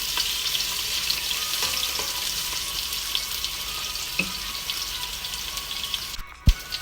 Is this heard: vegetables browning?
yes